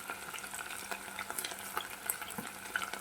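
Onions and spices frying in a pan for a chicken dish, a steady soft crackle with scattered brighter pops and faint scraping, fairly quiet throughout with no voices.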